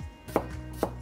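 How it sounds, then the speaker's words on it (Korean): Knife cutting a potato into thick halves on a board, two crisp chops about half a second apart, close and clear with no talk. "감자는 이렇게 반으로 잘라서"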